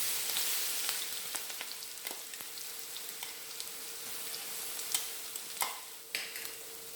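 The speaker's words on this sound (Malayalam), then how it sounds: "ഇതിൻ്റെ പച്ചമണം മാറുന്നവർ നന്നായിട്ടൊന്ന് വഴറ്റി കൊടുക്കാം" Ginger, green chili and garlic sautéing in a pan for Kerala prawn pickle, giving a soft, steady sizzle with occasional sharp utensil scrapes and taps toward the end.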